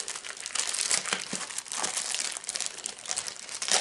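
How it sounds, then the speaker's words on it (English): Crisp plastic crinkling and crackling close up, a steady busy rustle as sealed plastic packaging around a book is worked open and cut with scissors. "So we're going to use our handy scissors."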